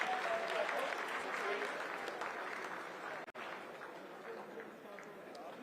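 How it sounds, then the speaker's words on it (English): Mission control staff burst into dense, continuous applause during the Chandrayaan-3 Vikram lander's vertical descent phase, with a crowd and voices mixed into the clapping and a short dropout in the middle. "Lot of applause"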